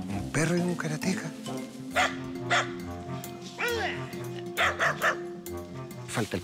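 A dog barks and yips repeatedly at close range in an outdoor spot in Valdivia where someone is practicing karate, with a voice talking over the barking throughout.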